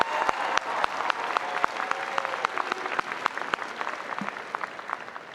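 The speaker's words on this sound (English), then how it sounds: "Let's give our officers a round of applause." An audience at a high school graduation ceremony applauds the class officers, a dense stretch of clapping with sharp individual claps standing out, steady then slowly thinning.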